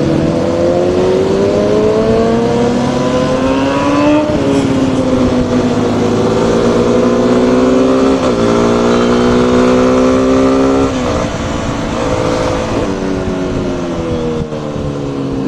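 A motorcycle on a ride through Lucknow roars loud and close without a break, its engine note climbing and dropping through several rev and gear changes under wind rush.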